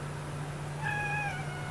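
A single drawn-out cat meow rising over a steady low electrical hum from a slow cooker in a home kitchen, the cat somewhere nearby but not close, brief and plaintive against quiet room tone.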